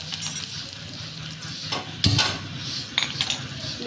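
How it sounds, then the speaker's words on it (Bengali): A utensil stirs and scrapes spice paste frying in a pan for cauliflower, soft sizzling under sharp metallic clinks and scrapes, a loud clank near the middle, no talking. "এবার এই মশলাটাকে আমি ভালো করে কষিয়ে নেব।"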